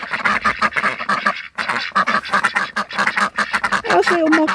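A noisy flock of domestic ducks quacks close by in rapid, overlapping bursts with barely a pause, then continues loud and steady after a brief gap, on a rural smallholding in central Portugal.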